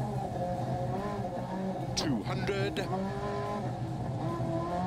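Group B rear-wheel-drive rally car in a video game, its engine droning steadily at high revs on a Finnish stage, with brief tyre-skid chirps around the middle, under someone talking and a co-driver reading pace notes.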